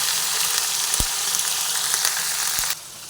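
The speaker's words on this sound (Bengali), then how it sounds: "ভেন্ডিগুলো ভেজে নেওয়ার সময় কিছু পরিমাণে হলুদ দিয়ে দিলাম" Okra fries in a pan with turmeric, giving a steady, close sizzle throughout, broken by two brief knocks before the sizzle drops off near the end.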